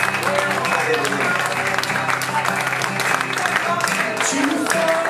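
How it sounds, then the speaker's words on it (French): A church congregation applauds and cheers during a worship service, loud continuous clapping and crowd noise layered over music and voices, holding steady throughout. "Est-ce qu'on peut avoir une acclamation?"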